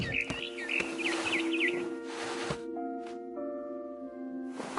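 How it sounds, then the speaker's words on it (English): A barn swallow in the video game What Remains of Edith Finch gives a quick series of warbling chirps up close, set over a low game hum and soft background tones, then falls quiet. "It was a barn swallow going back to her nest."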